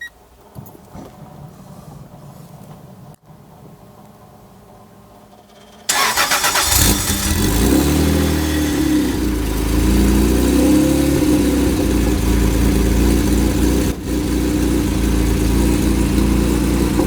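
A fully built turbocharged Acura NSX engine cranks after a quiet start, fires up abruptly and settles into a loud, steady idle with a low exhaust rumble, recorded up close with no talking.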